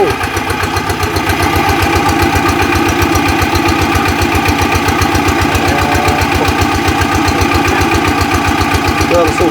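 A water pump engine runs close by with a loud, steady, rapid chugging pulse that holds an even rhythm throughout.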